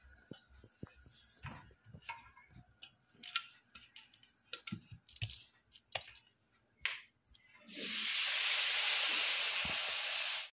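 A mixer grinder grinds coriander leaves for pickle. Scattered clicks and handling taps come first, then the motor starts with a loud, steady whirring roar that runs close up for the last few seconds.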